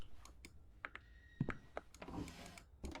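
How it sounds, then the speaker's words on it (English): A computer mouse clicks during a scary video game, a string of sharp, quiet, close taps spaced irregularly, with no talk. "I'm clicking stuff."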